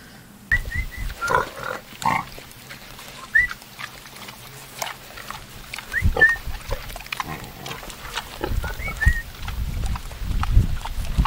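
Pigs on an outdoor organic pig farm in Briec, Finistère, grunting and snuffling in short irregular bursts at moderate distance, some louder grunts nearby, with faint outdoor background.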